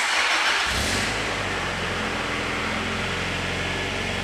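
Honda Integra Type R engine cranking and catching, then settling into a steady, mellow idle that stays moderately loud and close, with no talk.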